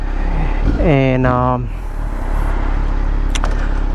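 A 2020 Kawasaki Z900 motorcycle revs and pulls away, the engine note climbing through a quick rising sweep before settling into a steady ride with wind rush, a brief spoken word near the start.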